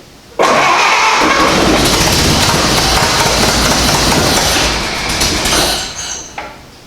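A 1929 Ford AA tow truck engine cranks and catches, then runs loud and rough, close by, with a steady rumble that eases near the end.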